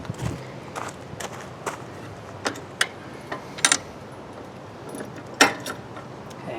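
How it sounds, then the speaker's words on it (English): Small metal hardware for a mower chute install, four washers, two bolts and two nuts, is handled by hand, giving scattered light metallic clinks and jangles at an uneven pace, close up and with no talking. "The 4 washers, 2 bolts, 2 nuts."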